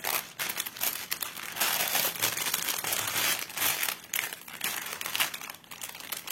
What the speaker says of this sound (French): Je suis en train de descotcher face à vous.